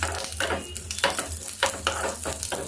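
Chana dal, urad dal and mustard seeds fry in hot oil for coconut peanut chutney, giving a close sizzle broken by rhythmic bursts of stirring scrapes roughly every half second.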